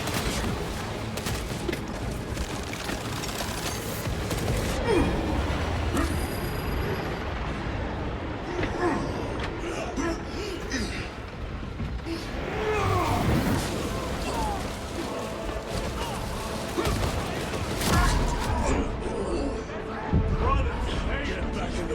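Heavy artillery and gunfire from the video game Warhammer 40,000: Space Marines 2, loud and continuous with repeated booms and bursts of shooting, while voices shout and talk over the battle.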